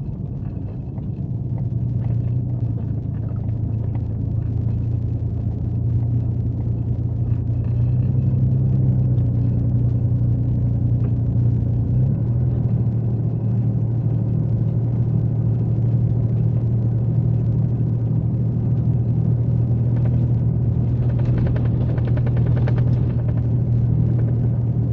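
A four-wheel-drive car drives along a slippery road, its engine a steady low drone with continuous road rumble from inside the cabin and no one speaking.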